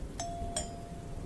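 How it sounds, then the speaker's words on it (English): A doorbell at the front door of an old, creepy house rings twice at night, each a bright two-tone chime about a third of a second apart, clear against quiet background hiss. "then rang the doorbell."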